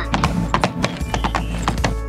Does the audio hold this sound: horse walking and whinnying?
yes